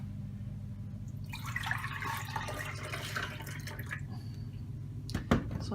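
Water is poured from a jug into a cup while making vegan pancakes in a home kitchen, giving a steady liquid splash and trickle for several seconds, then a brief sharper clink near the end.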